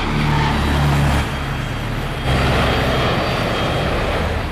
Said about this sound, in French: Nous venons juste de manquer un petit avion sur 6 gauche.